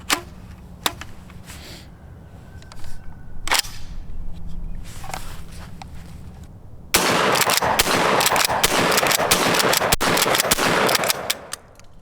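A Blackwater Firearms Sentry 12 shotgun fires outdoors. A few sharp single shots are spaced out at the start, then a fast, dense string of loud blasts follows for about five seconds.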